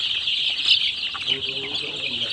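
Chickens cluck and chirp together in a busy flock, a constant bright chatter of many birds nearby with low murmuring underneath.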